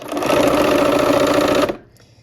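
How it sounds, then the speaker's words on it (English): A sewing machine stitches quilt rows in one loud, close, continuous run of fast needle strokes, then stops abruptly, leaving near silence. "we're back at the machine for the same type of sewing here."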